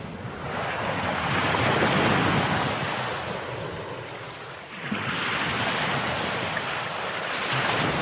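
Waves surging along the eroding Odisha coast, two long swelling crashes that rise and fall in turn, with strong wind buffeting the microphone and no voices.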